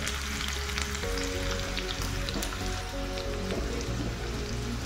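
Green chillies dropped into hot oil for a tadka tempering sizzle loudly and steadily, a dense close crackle with no voices.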